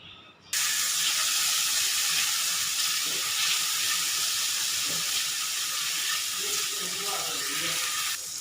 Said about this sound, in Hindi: लहसुन अदरक को मैंने इसमें फ्राई कर लिया है।